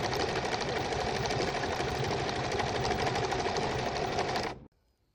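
A Simplicity 8220 sewing machine runs continuously sewing stretch stitches, its motor and needle producing a steady, dense, close-up whirring chatter for about four and a half seconds before stopping abruptly into quiet.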